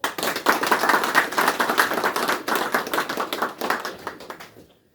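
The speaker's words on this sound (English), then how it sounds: "A round of applause for our artist." Outdoor crowd applauding an artist at a regimental monument unveiling ceremony in a memorial park, steady dense clapping from many hands for several seconds before tapering off to silence.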